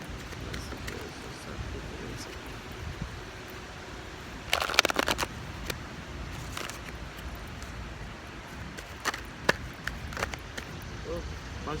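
Oracle cards are shuffled by hand in a short burst of crisp riffling and rustling, followed by a few scattered taps and flicks over a quiet room hiss.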